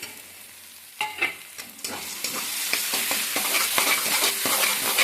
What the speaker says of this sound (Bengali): এবারে আমি বড়ি ভাজাটা দিয়ে দিলাম।